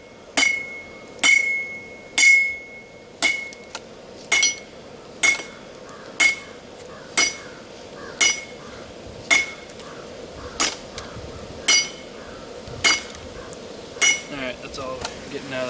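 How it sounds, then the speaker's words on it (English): Hot metal hammered at a forge while one person holds the piece: a steady series of about fourteen sharp, ringing strikes, roughly one per second, loud and close, each with a bright metallic ring. "I'll hold it and you hammer it."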